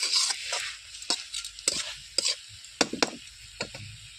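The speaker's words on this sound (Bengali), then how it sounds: "এবার ওপর নিচ করে আর একবার নেড়ে নিয়ে" Red amaranth stem vegetables stirred in a pan: a soft sizzle underneath irregular scraping and clacking strokes of a utensil against the pan, close and moderately loud, with no voices.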